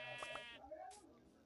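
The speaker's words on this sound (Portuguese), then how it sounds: "Opa, ovelha, ovelha, ovelha." Sheep in Minecraft letting out two short, bright bleats close together near the start, then another, over steady game background noise.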